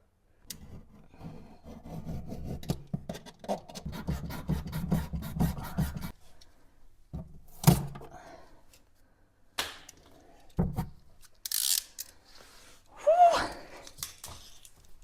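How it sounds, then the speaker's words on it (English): Blade slicing through the thin plywood back of a cabinet, a run of quick rasping strokes for several seconds followed by scattered scrapes and knocks, fairly close and moderately loud. "Because it is just plywood at the back, I can just slice through it."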